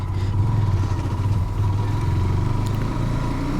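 A GPX Demon motorcycle rumbles steadily at low revs while riding a rough, bumpy village road. The engine hum stays continuous and close, with light rattling over the top.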